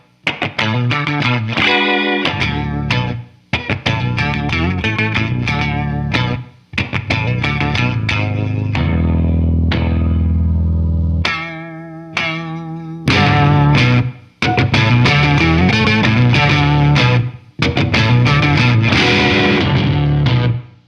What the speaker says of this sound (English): here I have the scoop output going into an octave pedal and the scream output going into a vibrato